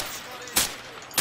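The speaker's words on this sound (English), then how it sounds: "He sprayed bullets all over the damn place." A rifle fired from the hip in Modern Warfare 2, a continuous rattling spray of gunfire with two louder shot peaks standing out.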